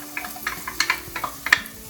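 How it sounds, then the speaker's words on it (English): Celery and garlic sautéing in a pan, a faint close sizzle with quick light scrapes and clicks of a utensil, brief and quiet. "we're just going to let all of this saute"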